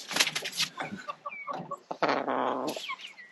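A hen sitting on eggs inside a farm chicken coop gives several short clucks and throaty calls, close by and moderately loud, with brief pauses between them.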